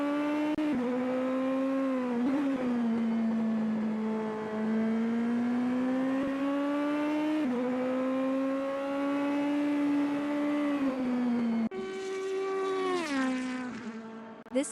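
A Super GT race car engine in a sim racing game, holding a steady high drone through a corner, then rising and dipping with throttle and gear changes, loud and close throughout.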